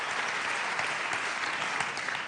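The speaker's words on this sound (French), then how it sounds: "on peut vous applaudir de nouveau" Steady, dense applause from an audience at a national award ceremony, a continuous even wash of clapping with no voices on top, moderately distant.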